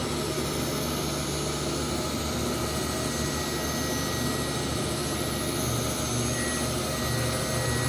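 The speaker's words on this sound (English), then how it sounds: "And now we can do our test grind." A reel mower grinder runs a test grind on a mower cylinder, giving a loud, constant high whirring roar with steady grinding hiss that never lets up.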